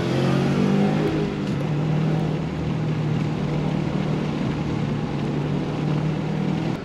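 Subaru Levorg with an FB20 engine and CVT runs against a Subaru STI swapped to an EJ25 with a six-speed in a roll race, a loud, steady engine roar with rising tones early, then continuous drone and road noise.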